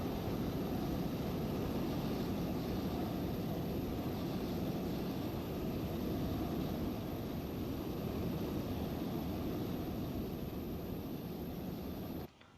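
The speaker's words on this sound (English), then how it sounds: "that was a British Airways A320, I think, taking off" A British Airways A320 taking off in Microsoft Flight Simulator 2020, a steady loud broadband jet engine roar holding level for the whole stretch before cutting off abruptly at the end, with no talking.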